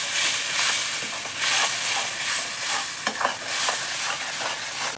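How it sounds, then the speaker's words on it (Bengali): Fried onions being stirred in a pan with a little coconut milk for an egg korma, a steady wet sizzle broken by repeated soft scraping strokes, close and fairly loud with no voices. "অল্প নারকেলের দুধ দিয়ে কিন্তু আমি এইভাবে খুব সহজে নেড়ে নেব।"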